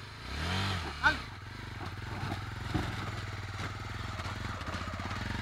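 Motorcycle engine revving as the rider releases the clutch, a close mid-pitched engine note that rises and then holds a steady rattling throb, with voices talking over it.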